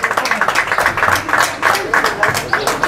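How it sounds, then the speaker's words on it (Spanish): A rodeo crowd in a medialuna arena claps for the champions of a breeders' series, a dense run of rapid hand claps close by with no talk over it. "Fuerte el aplauso para los campeones de la serie cría hoy"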